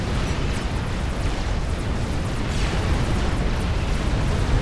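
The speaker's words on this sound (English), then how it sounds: "I don't reckon that's going to stay the case if these battleships keep up their bombardment" Battleship bombardment in the strategy game Supreme Commander Forged Alliance Forever: dense, continuous rumbling explosions, loud and overlapping, with no clear breaks and no voices.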